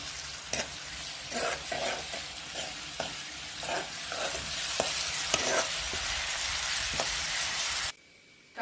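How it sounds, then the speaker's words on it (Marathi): Ginger garlic paste and onion fry in a pan while being stirred, with a steady sizzle and a rhythmic series of spoon scrapes against the pan before the sound stops abruptly. "आता दोन्ही गोष्ट आपण मिक्स चांगल्याने मिक्स करायचं आहे"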